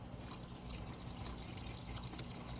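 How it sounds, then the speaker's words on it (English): Water poured into molasses in a container while mixing fish hydrolysate, a steady low trickling, filling wash that runs continuously and fairly quietly with no talk over it. "I'm going to actually put the water in here, and then I'm going to start to stir it."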